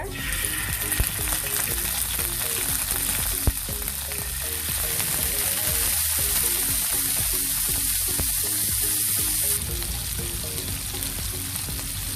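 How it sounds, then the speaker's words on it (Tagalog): Marinated pork liver frying in a pan, a loud, steady close sizzle and crackle that carries on unbroken, with no talk. "Ngayon, ipa-fry natin ang liver."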